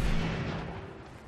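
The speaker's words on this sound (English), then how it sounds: "I honestly don't know what this guy is shooting at." Gunfire in Fallout 4 booms once loudly at the start and then decays into a rumbling tail that fades over the next second.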